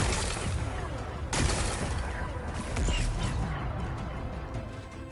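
Rocks blast apart in the Horizon video game, a dense run of crashing, crackling explosions and booms with one sharp burst early on and rumbling debris continuing loudly to the end.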